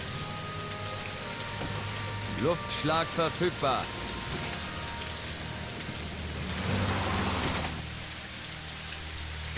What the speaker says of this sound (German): Verdammter Regen!